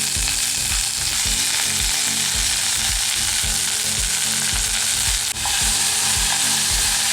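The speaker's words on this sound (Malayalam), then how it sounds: "അപ്പോൾ ഈ പുതിനയിലയും കൂടി ചേർത്തതിന് ശേഷം ഇതെല്ലാം കൂടി ഒന്ന് വഴറ്റിയെടുക്കാം" Mint leaves sauté in a hot pan for mint chutney, a loud continuous sizzle with rhythmic stirring scrapes repeating about twice a second, close-up and uninterrupted by speech.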